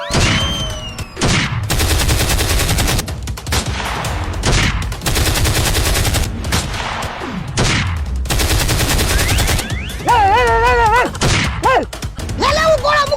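Gunfire effects in a comic Gujarati village skit about armed men approaching, with repeated loud bursts of rapid shots broken by short gaps, plus warbling electronic tones near the end.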